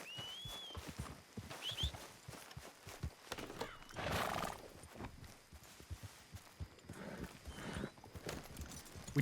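A horse in the Red Dead Redemption 2 game gives a rising whinny near the start while hooves clip-clop in an uneven walking rhythm, with a louder snort or rush of sound midway and more faint neighing later.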